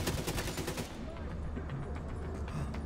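Rapid gunfire in the video game The Division 2, a dense burst of shots that gives way to continuous loud firing and explosions.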